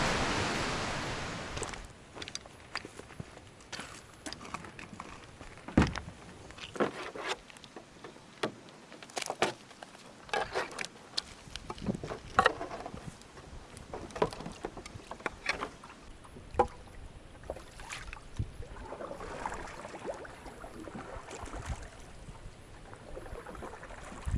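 A small boat crossing water in Northern Ontario, with irregular quiet splashes, paddle strokes and knocks over a soft watery background, and no voices.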